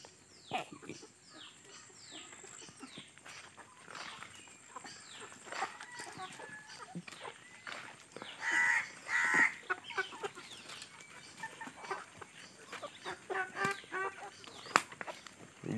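DP cross hens cluck and squawk on a small low-budget poultry farm in Konkan, scattered calls near and far with a couple of sharper squawks, faint background and a little talk.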